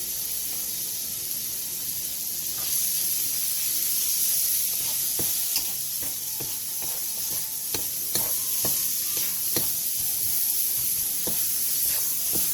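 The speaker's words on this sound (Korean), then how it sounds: "팬에 기름을 두른 뒤 절인 무와 다진 마늘 반 스푼, 고춧가루 반 스푼을 넣고 센 불에서 볶아주세요" Pickled radish, minced garlic and chili flakes stir-fry over high heat in an oiled pan, a steady bright sizzle running throughout with scattered scraping clicks of a spatula against the pan.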